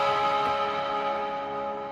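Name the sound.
guitar slide part played with fingers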